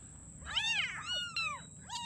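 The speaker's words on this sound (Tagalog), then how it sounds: "Ito yung pusa na 4 na na-rescue ko." A small rescued kitten, the youngest of four, meows several times in a row, with thin high wavering cries close by over a low background hum.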